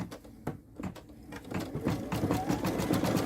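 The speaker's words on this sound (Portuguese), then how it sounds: "posiciono e a máquina vai costurar, deixando a abertura pra gente desvirar" A sewing machine stitches two fabric pieces placed face to face, a close, steady mechanical whir that rises in loudness and keeps running to the end.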